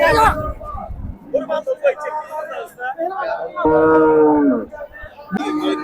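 Cattle low at Hazratpur cattle market: one long, loud moo rises mid-clip amid the murmur of people talking and bargaining nearby.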